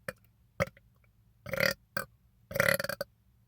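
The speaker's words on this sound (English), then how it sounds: "yeah, there it is, black burps" Several loud, close soda burps come one after another after a fizzy drink, short belches at first, then two longer drawn-out ones, with silence between them.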